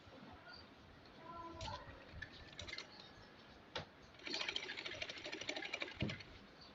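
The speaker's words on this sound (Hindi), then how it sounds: "अब नीचे वाली पेटी की जो गोलाई है वो सिलाई कर लेती हूँ।" A sewing machine stitches the rounded bottom hem of a baby frock sewn from small fabric pieces, running in short, uneven bursts of rapid clicking stitches at moderate level, with a faint voice now and then.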